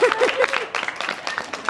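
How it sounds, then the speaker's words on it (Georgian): Applause from an audience at a first-grade school celebration: a short burst of crowd clapping at moderate level, with a faint voice and tonal sounds in the first half. "ის აპლოდისმენტები."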